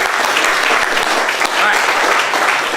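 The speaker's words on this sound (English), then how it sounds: "Give yourselves a big round of applause" An improv comedy show audience bursts into loud, dense applause that continues steadily with a brief dip midway, voices mixed faintly into the clapping.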